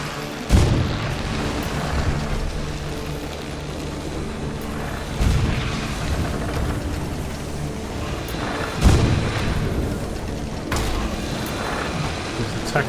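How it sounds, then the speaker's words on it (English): Repeated booming gunfire in the video game Sunless Skies as a monster is shot, three heavy blasts spaced a few seconds apart over a dense, rumbling background. "Shooting the monster at the moment."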